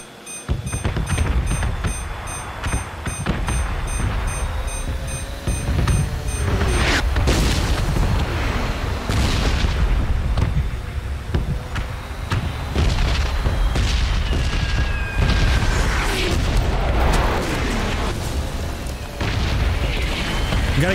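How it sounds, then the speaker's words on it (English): Red zone bombardment in the video game PUBG: heavy explosions boom continuously, overlapping and rolling with deep rumble and scattered sharper cracks, loud throughout. "I might as well do it now while the red zone's going off"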